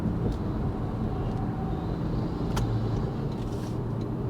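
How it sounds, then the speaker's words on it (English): Constant road rumble and tire noise from inside a 2025 Toyota 4Runner Trailhunter SUV cruising at highway speed, steady and unbroken. "setting out onto the highway in the 4Runner Trailhunter."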